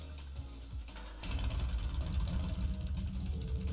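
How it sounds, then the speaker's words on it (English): A motorbike in Trails of Cold Steel starts up: quiet low hum, then after about a second the engine catches into a loud, rumbling idle that keeps running steadily. "Right then, first is starting up the engine."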